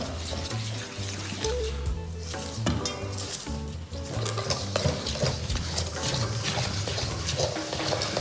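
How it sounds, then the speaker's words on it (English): Flatbread dough being mixed in a bowl after wet ingredients go into dry, a continuous wet squelching and stirring close by, steady and fairly loud with faint background music. "all wet ingredients into dry ingredients, give it a good mix"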